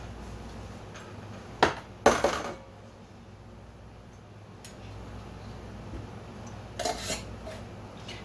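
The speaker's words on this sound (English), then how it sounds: "I'm just going to wipe the rims and add my lids and jars to finger tight" Metal lids clinking and scraping onto glass canning jars as they are screwed finger tight, a few brief clattering bursts separated by quiet pauses.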